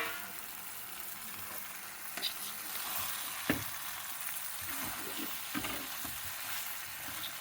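Bottle gourd pieces frying with onion and tomato in a pan, a soft continuous sizzle broken by a few spoon knocks and stirring scrapes, fairly quiet and without speech.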